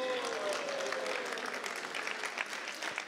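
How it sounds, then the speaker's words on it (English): Brief round of applause from an audience at a Gaura Purnima festival gathering, dense clapping at moderate distance that continues for a few seconds, with a voice faintly audible beneath it. "Give them a big round of applause"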